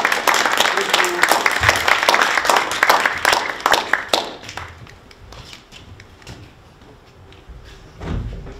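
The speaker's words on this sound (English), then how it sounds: "big round of applause" Audience applause breaking out after a talk, loud and dense for several seconds, then thinning to scattered claps that fade out.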